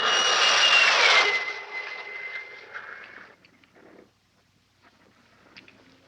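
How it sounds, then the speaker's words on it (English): A jet fighter passes overhead in a 1959 film, its loud roar and high whine peaking at the start, then fading away quickly into near silence. "even to the piercing eye of radar and the speeding jet fighters"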